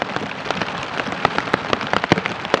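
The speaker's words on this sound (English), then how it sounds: "it is now torrential rain" A dense downpour during a lightning storm hisses continuously, with frequent loud drop impacts spattering nearby; no thunder stands out.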